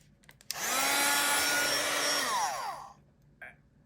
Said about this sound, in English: Keep your heat gun about at the top of your mold and go around the perimeter until it starts shrinking.